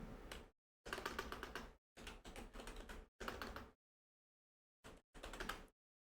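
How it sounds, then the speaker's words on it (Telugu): Fingers type on a computer keyboard in close, rapid bursts of clicking. The bursts are separated by short silent pauses, and no one speaks. "ఇక్కడ బార్డర్ అని టైప్ చేయండి."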